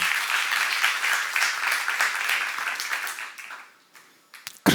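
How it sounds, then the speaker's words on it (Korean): Church seminar congregation claps in steady, fairly loud applause that tapers off, followed by a few brief knocks and bumps at the close. "박수 하나 더 해주세요"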